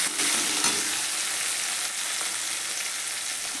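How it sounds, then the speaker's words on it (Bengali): Tomatoes frying in a pan for ghugni, a loud, steady, close sizzle with faint crackles and one or two soft stirring knocks, no voices. "বেশ কিছুক্ষণ ধরে টমেটোটা আমি ভালো করে ভেজে নিচ্ছি।"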